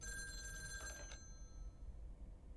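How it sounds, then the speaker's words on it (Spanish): A telephone rings in the video game Lake, a bright electronic trill repeating briefly before cutting off, followed by quiet background hum. "Suena el teléfono."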